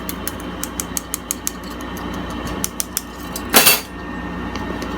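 Flour, sugar and baking powder being sifted for a pear cobbler, heard as a steady run of light, evenly spaced ticks and taps, with one brief louder rustle near the end over a low background hum.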